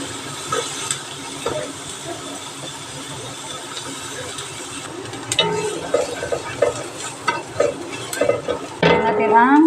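Onion sautéing in a pan for a creamy chicken pasta sauce, a soft steady sizzle with scraping stirring clicks that grow louder and busier toward the end.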